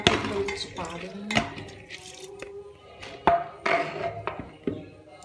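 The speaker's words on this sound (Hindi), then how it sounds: "सारी दाल कुकर पा दें" Dry moong and masoor lentils clatter into a metal pressure cooker in a few bursts, with pot and utensil clinks throughout and a voice talking over the sound.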